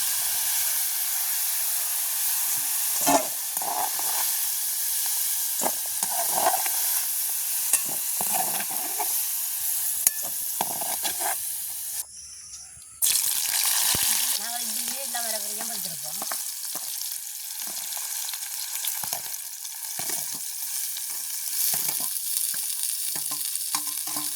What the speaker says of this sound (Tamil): நல்லா பொரியும் உருளைக்கிழங்கு நல்ல முறையாக பொரிஞ்செடுத்து நாங்கள் வடிச்செடுப்போம்